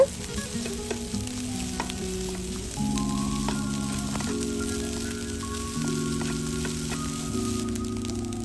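Rice stirred with onion and garlic in a hot pan, a steady sizzle and crackle of frying with scraping spoon strokes, while music plays in the background.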